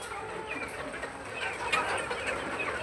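Chickens at a poultry farm, including the biggest rooster and hen, cluck and call softly in a steady, busy backdrop with no clear talking.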